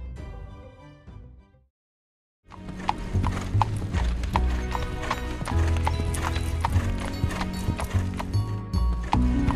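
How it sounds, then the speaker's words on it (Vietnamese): A convoy of merchant carriages in an animated folk tale is pulled by horses with close, rhythmic clip-clopping hooves and some whinnying. The hoofbeats start again after a brief silence and carry on steadily. "Đoàn xe ngựa kia đi đâu thế nhỉ?"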